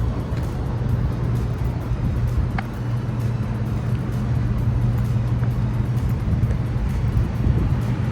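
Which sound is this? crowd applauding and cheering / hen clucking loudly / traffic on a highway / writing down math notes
traffic on a highway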